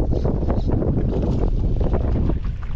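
Strong wind buffets the microphone on a boat crossing choppy water in Manila Bay near Obando, a loud, steady roar of gusts and rushing water throughout with no speech.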